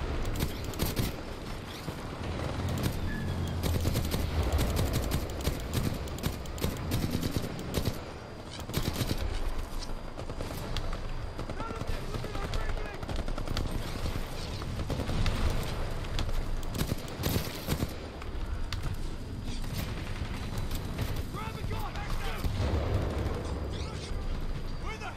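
Dense gunfire rattles through a Titanfall 2 match, with rapid bursts, impacts and mechanical clatter running almost continuously at full loudness while a player talks over the combat.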